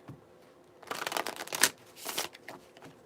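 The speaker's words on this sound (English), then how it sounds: "Just going to do a quick shuffle on all the decks" Several decks of playing cards are shuffled in quick riffling bursts close by, a crisp flutter that rises and falls over a few seconds with no talking.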